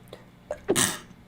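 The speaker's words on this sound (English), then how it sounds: "Oh, I have a sneeze stuck inside my nose." A single sneeze bursts out close and fairly loud after a couple of faint sharp breaths, with no talk around it.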